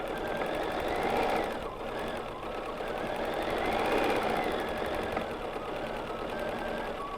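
A BERNINA sewing machine free-motion stitches a quilted placemat, its needle running in a steady, rapid mechanical whir with slight swells in pace, close and alone.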